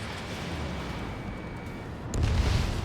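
A missile explosion in the jet combat game Ace Combat 7, heard as a low boom swelling near the end over a steady rumble of aircraft noise.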